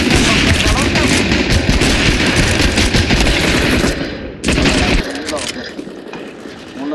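Dense automatic and rapid gunfire in the video game Counter-Strike, loud and nearly continuous for several seconds, briefly cutting out before more shots, with a voice talking over the action.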